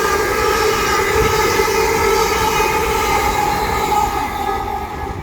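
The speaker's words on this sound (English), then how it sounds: "here we've got one of LNER Zoomer sets speeding through the middle" An LNER Class 800 Azuma unit, number 800 104, speeds through Doncaster station without stopping, giving a loud, steady roar of wheels and traction that holds for several seconds before easing slightly at the end.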